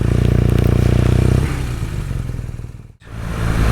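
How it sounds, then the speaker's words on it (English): A BMW R nineT Racer motorcycle idles with a lumpy, pulsing beat, then a quick throttle blip lifts the engine note before it dips sharply, cuts out for a split second and returns, heard close up. "Here we go, I'll blip the throttle, you see it rock over to the right."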